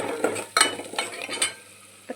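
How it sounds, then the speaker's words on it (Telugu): Garlic, curry leaves, coriander and turmeric frying in a pan, with a few quick stirring scrapes and bursts of sizzle over a low background, close and brief. "కొత్తిమీరకాయ, తెల్లగడ్డ, కరివేపాకు, కొత్తిమీర, పసుపు 3 వేసుకొని వేపుకునేది. కొంత ఫ్రై కావాలన్నమాట,"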